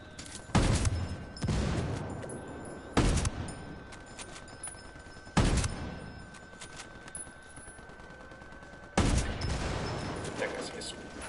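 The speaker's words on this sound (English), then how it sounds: "Shots fired. Unidad's engaging the cartel." Bursts of gunfire in the Ghost Recon Wildlands video game during a firefight with the cartel: four loud volleys spaced a few seconds apart, each trailing off in echo, with a faint steady tone underneath.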